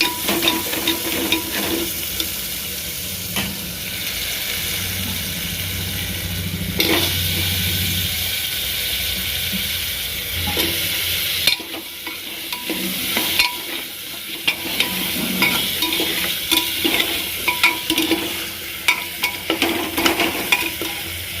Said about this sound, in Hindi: छौंक दी है आलू टमाटर की सब्ज़ी